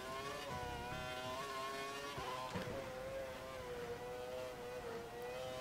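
Open-wheel F1 racing car from the F1 2012 video game at the Hungaroring in Hungary, engine droning steadily at high revs with small pitch dips and rises through a corner, loud and continuous.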